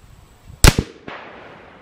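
A single loud crack of a 300 Win Mag rifle fired while sighting in, ringing off into a short echo with a faint follow-up report, no talk.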